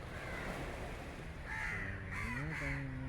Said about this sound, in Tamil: மரத்தில் தூங்கிட்டு இருந்த பறவைகளெல்லாம் இப்போ விடிஞ்சிடுச்சுல எழுப்பி பறக்க ஆரம்பிச்சிட்டு